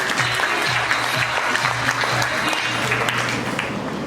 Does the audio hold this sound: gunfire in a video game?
no